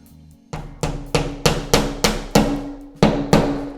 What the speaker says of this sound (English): We'll just tap it in here with our hammer.